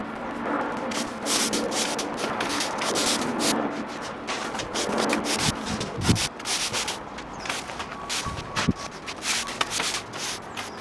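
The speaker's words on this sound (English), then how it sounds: "then I go around with a soft bristle brush and sweep up all the excess" A soft-bristle brush sweeps excess pointing mortar from patio joints in steady, scratchy strokes, close and continuous with brief harder scrapes.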